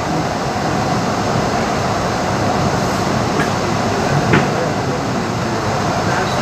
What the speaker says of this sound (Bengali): এই ব্লু লাইন মানেই হচ্ছে গঙ্গার তলা দিয়ে ছুটছে হাওড়া ময়দান টু স্প্ল্যানেড মেট্রো।